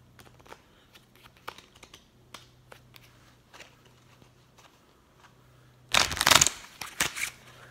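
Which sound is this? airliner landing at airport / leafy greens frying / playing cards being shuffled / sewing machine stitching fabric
playing cards being shuffled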